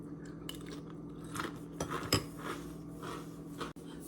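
Someone crunches through a bowl of peanut butter Cap'n Crunch cereal, with close, irregular bites and chewing and a spoon clinking now and then against the bowl.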